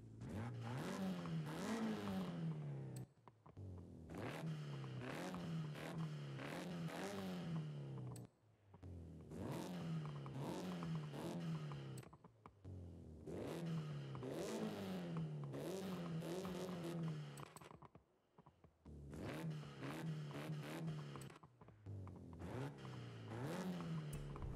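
A rear-wheel-drive-swapped Honda Prelude SI with a new intake, in a video game, revs repeatedly: about six sustained bursts of rising and falling engine pitch separated by short gaps, loud and alone.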